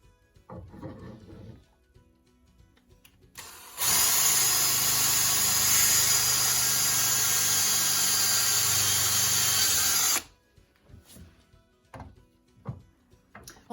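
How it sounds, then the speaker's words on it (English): A power drill boring holes into a wooden outdoor coffee table, one loud continuous whirring burst lasting several seconds, with quiet handling and shuffling before and after. "we'll put a drill hole about here and a drill hole about here"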